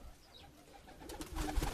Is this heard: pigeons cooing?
yes